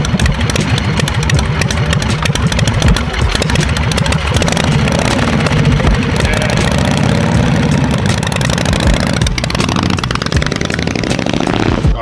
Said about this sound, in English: The idle's so low.